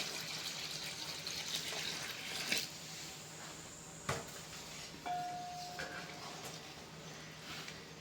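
Water is poured in small amounts into a lentil paste while it is mixed for sun-dried sandge, giving soft splashy, squishy sounds over a steady low background, with a brief faint tone partway through.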